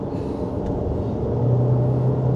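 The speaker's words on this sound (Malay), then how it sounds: "Kita boleh dengar bunyi tayar sedikit pada kelajuan 70 ke atas." A Jetour Dashing cruising above 70 km/h on a Malaysian test drive produces a steady low tyre roar and road rumble, continuous and even, growing slightly louder toward the end with no talking.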